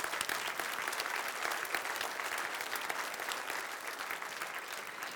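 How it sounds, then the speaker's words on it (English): An audience at a science competition award ceremony applauds the winning teams with loud, dense, continuous clapping that holds steady across the whole stretch. "Let's applaud them again."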